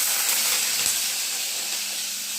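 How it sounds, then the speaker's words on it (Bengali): Potatoes slide into hot oil for a soya curry, raising a steady, bright sizzling hiss that runs unbroken the whole way through at close range, with a faint thud as they land. "আর ও এবার আলুগুলো ছেড়ে দিচ্ছে"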